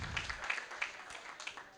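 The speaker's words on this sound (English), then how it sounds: "Let us all give some round of applause to our volunteers." A brief patter of applause from a small crowd honouring volunteers at a charity golf tournament, scattered light claps rising and falling for under two seconds.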